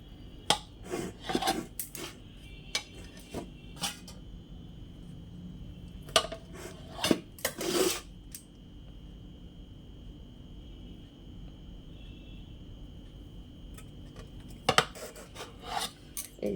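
A knife slices a block of paneer into large pieces, giving a few short, sharp scraping cuts in small clusters with quiet pauses between them.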